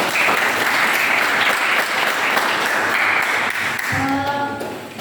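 A classroom group claps in applause, a dense steady patter of many hands held at an even level for about four seconds before thinning out at the end.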